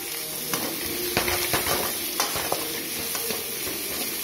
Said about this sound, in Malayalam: ബ്രൗണിഷ് ആവുന്നവരെ നമ്മളിങ്ങനെ വഴറ്റി കൊടുക്കാം